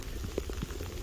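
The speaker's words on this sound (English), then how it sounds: "it's proper raining at the minute" Steady rain falls outdoors during a walk, a soft continuous patter of drops on surfaces, fairly faint and with no voices.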